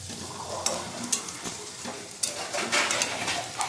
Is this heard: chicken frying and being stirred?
yes